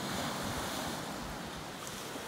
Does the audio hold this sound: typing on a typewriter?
no